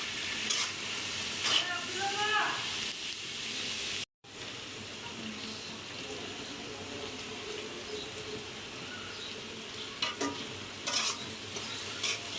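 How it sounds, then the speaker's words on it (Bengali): Snake gourd with egg sizzles in a pan while a spatula scrapes and stirs it in repeated strokes, a moderate crackle continuing around a brief drop in sound. "দিয়ে দিলাম চিচিঙ্গাটা ডিম দিয়ে ভাজি করলে একটু ভাল লাগে"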